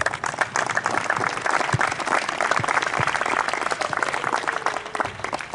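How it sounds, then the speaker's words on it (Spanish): An audience applauds at a junior girls' doubles tennis trophy ceremony, sustained crowd clapping with distinct sharp individual claps standing out, loud and continuous the whole way through. "Un aplauso para ellos, por favor"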